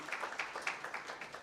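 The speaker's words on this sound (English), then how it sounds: "Maybe you can give her a better clap" An audience at a Konrad Adenauer Stiftung event in Kenya claps in a quick, even rhythm of soft, fairly distant hand claps that stays light and thin throughout.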